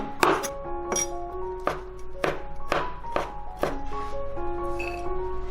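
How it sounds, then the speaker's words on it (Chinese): A knife dices peeled shrimp into small pieces on a cutting board, about eight crisp, separate chops in an uneven rhythm, each with a brief ringing click, close and clear. "再来把虾仁切成丁"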